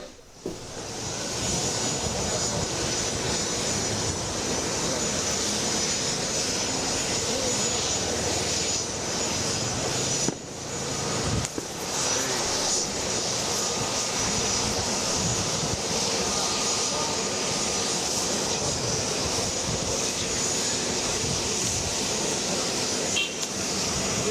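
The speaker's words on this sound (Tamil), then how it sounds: "அவருடைய விமானம் ஓடுதளத்தில் பிரயாணிக்க ஆரம்பிச்சிருக்கு" A private jet taxis along the runway at Chennai Meenambakkam airport, its engines producing a continuous loud whine and roar that holds steady for the whole stretch, with a brief dip partway through.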